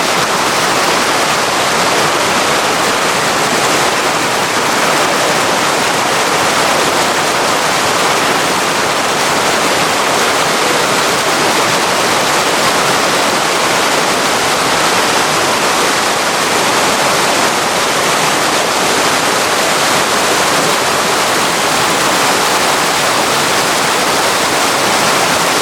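Rushing stream of clear snow-runoff water at a river crossing, a steady loud broadband roar that holds constant and dense throughout, with no voices.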